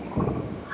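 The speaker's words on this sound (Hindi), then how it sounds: "अभी आपको आवाज गया होगा, इतना जोर से जो है बिजली कड़क रही है ना।" A loud thunderclap from a thunderstorm rumbles outside, a deep swelling boom lasting under a second with faint rain and no voices.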